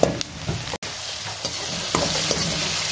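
Chicken pieces for khichuri stirred in a hot pan, sizzling with scraping spoon strokes and a brief break, close and steady with no talking.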